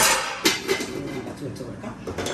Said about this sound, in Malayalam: നമുക്കിനി ഈ അടുപ്പിൽ തന്നെ നമ്മൾ ഉരുളി വയ്ക്കാം